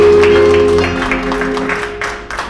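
Steady applause from a church congregation fills the space, a dense wash of clapping with music fading underneath.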